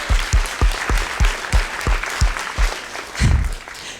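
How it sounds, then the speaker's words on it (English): An audience at a Pecha Kucha night in Dundee applauds, a dense crowd of claps at close range with a pulsing, uneven rhythm and a burst of cheering near the end. "give yourselves a round of applause for that"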